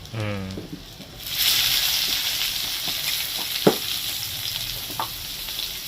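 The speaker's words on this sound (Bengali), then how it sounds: "পেঁয়াজ আর রসুনটা দেখো খুব ভালো করে ভেজে নিয়েছি" Chopped onion and crushed garlic fry in hot oil for a hilsa fish tail mash, a steady close sizzle with occasional stirring clinks after a brief voiced sound at the start.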